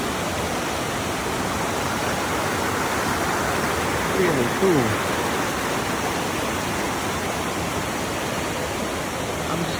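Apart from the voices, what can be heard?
waterfall on Siquijor island, Philippines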